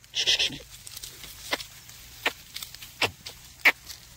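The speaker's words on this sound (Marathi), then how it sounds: "मक उगवल्यामुळं शेळ्या बी खात्यात." Goats feeding on young maize plants in a field bleat a few times, one loud bleat first, then several shorter calls spaced apart, near and with no talk.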